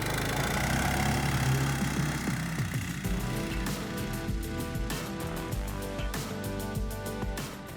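A Tofalar Tundra motorsled engine holds a steady, loud mid-to-low drone, with faint rhythmic clicking and rattling layered over the running motor.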